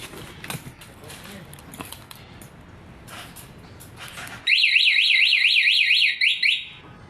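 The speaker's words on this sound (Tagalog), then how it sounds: "Kahit kunting galaw mo sa motor, aalarm talaga." Quiet background rustling and light clicks, then a motorcycle anti-theft alarm bursts in, a loud warbling electronic siren cycling rapidly up and down for a few seconds before cutting off.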